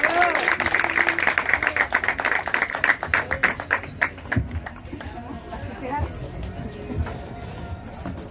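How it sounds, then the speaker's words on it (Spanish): Guests at the ribbon-cutting opening of Flex Club Cancún applaud with brisk, close clapping for about four seconds, then it thins into scattered claps and crowd chatter. "Juan Pablo, Tania y Tony, un aplauso, por favor."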